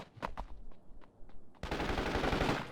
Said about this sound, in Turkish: Kanka silah sesleri geliyor mu?